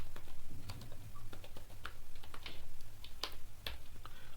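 Fingers tap at a computer keyboard in short, uneven clusters of clicks, close and fairly quiet, with no speech.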